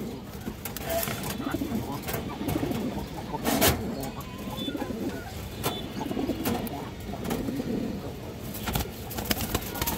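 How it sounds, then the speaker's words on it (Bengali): Red khaki breeder pigeons in a home loft coo in repeated throaty bursts, close by, with other birds calling around them and brief flutters and knocks. "লাল খাকি কবুতর"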